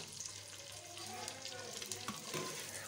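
Sliced onions going into hot oil in a pan over a flame, a steady soft crackling sizzle that stays at one level throughout, close and fairly quiet.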